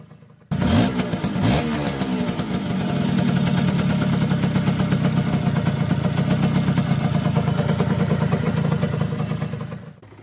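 Yamaha FS1E two-stroke moped engine starting up and running steadily, a loud, buzzy, raspy drone with a brief rev near the start, close by and alone throughout.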